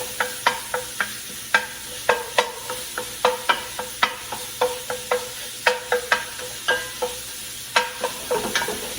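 Sausage fries in a soup pot for zuppa toscana, a steady sizzle broken by sharp, repeated scraping knocks of a spoon stirring, close and loud with no talk.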